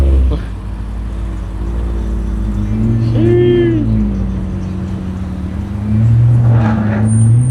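A supercar engine idles close by at a cars and coffee meet with a low, steady rumble that swells slightly near the end, while people talk over it.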